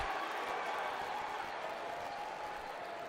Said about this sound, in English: Crowd's really getting into it now.